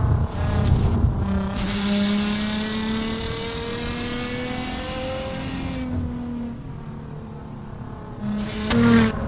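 A Nissan GT-R R35 Cup 2007 race car in Assetto Corsa, at Acopone Raceway, revs hard with a loud, sustained engine drone that climbs through the gears and briefly eases off before rising again at the end.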